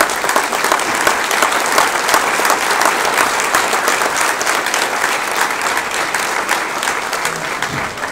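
An audience at a formal event claps in a dense, sustained ovation, loud and close, holding steady before easing off slightly near the end.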